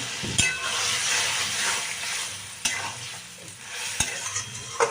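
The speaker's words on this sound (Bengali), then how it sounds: "অল্প জল দিয়ে আগে মিশিয়ে নিচ্ছি ভালো করে" Potato and pointed gourd curry in spices is stirred in a pan with a little water, a hissing sizzle under repeated scraping strokes and a few sharp clinks of the spoon against the pan, without talk.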